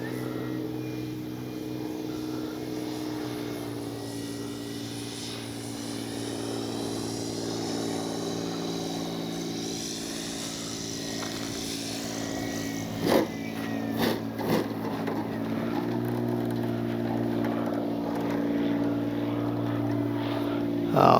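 A Hangar 9 20cc Valiant RC model airplane comes in to land, its gas engine whining steadily with shifting pitch, followed by a few sharp knocks near the end; people talk faintly in the background.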